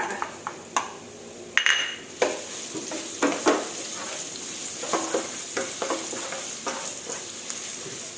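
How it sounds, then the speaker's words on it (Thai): Garlic stir-frying in oil for a winter melon and egg dish, with crackling sizzle and repeated scraping strokes of a spatula against the pan, close and irregular, no talking. "จากนั้นเอากระเทียมลงไปผัดค่ะ"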